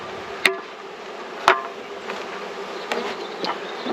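A package of honeybees buzzing as they are shaken into a top bar hive, a steady close hum broken by a few sharp knocks and taps of wood, with no talk.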